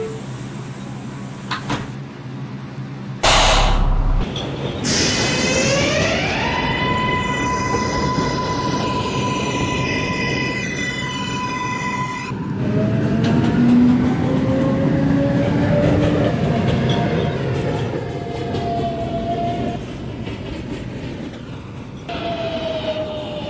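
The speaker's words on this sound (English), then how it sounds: "This is a Manhattan-bound 6 train." A New York City subway 6 train rumbles and rolls steadily, with squealing wheels and rising electric motor whines, loud and continuous throughout.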